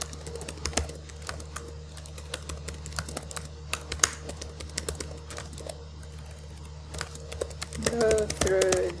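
Typing on a computer keyboard, entering instructions in a Moodle course page: steady, rapid, close key clicks over a low electrical hum, with a brief voice near the end.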